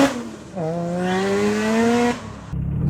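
A Mazda RX-7 FD rotary sports car on a highway mountain pass during a full-power time attack, its engine note climbing steadily for about a second and a half before dropping away abruptly.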